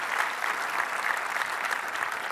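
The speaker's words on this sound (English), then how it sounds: "a big round of applause for Mary" Sustained applause from a keynote audience for speaker Mary Jo Foley, a steady dense wash of many hands clapping at even loudness throughout, with no talking over it.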